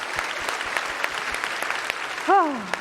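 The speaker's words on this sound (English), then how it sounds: "keep that applause going for all the FX contestants" A crowd at the TwitchCon 2019 cosplay contest keeps up steady applause for the contestants, a dense wash of clapping with a few sharp individual claps and a short vocal whoop near the end.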